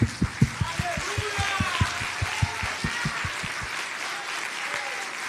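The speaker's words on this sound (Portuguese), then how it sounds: "Fica de pé, glorificar a Jesus com as suas palmas." A church congregation stands and claps in rhythm to glorify Jesus, steady loud beats repeating about every third of a second for roughly four seconds before thinning out, with voices and worship sounds blended underneath.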